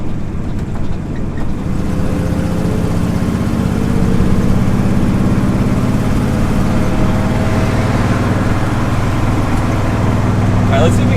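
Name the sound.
1967 Ford F250 ramp truck engine running, new carb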